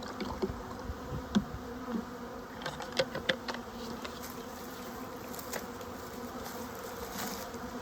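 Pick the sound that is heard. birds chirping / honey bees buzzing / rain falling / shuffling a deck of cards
honey bees buzzing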